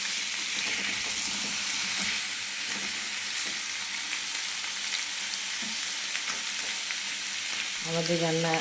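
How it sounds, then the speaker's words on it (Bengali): Vegetarian spinach frying in a pan, giving a steady, close sizzle that fills the whole stretch with small stirring clatters, and a short tonal hum rising near the end. "একটু ভাজবো এগুলো।"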